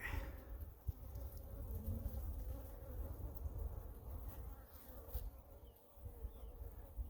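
Honey bees buzz around an open hive during an inspection, a steady close swarm drone with individual bees passing near and drifting away.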